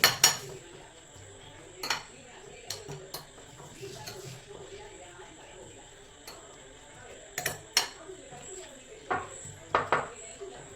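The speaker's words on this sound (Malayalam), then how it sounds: "വിനാഗിരി ഒഴിച്ചു കൊടുക്കാം നന്നായി മിക്സ് ചെയ്ത് വെക്കാം നമുക്ക്" A spoon stirs coconut shoot pickle with vinegar in a pot, scraping and clinking against the vessel in scattered bursts, with quiet pauses between strokes.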